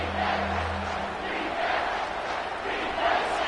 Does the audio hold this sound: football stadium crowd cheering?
yes